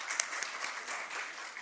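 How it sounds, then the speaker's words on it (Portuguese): Applause for a female prosecutor at a state hearing on animal cruelty in Espírito Santo, Brazil: a brief, fairly faint patter of clapping from a small audience, steady and without talk. "Aplaudir a doutora Edviges."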